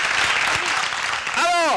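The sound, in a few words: applause for the artists of Burkina Faso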